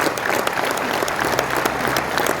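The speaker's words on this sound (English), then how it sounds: "you can stand up here for a round of applause right there" A crowd gives a standing round of applause to an award recipient, with dense, steady clapping close and loud throughout.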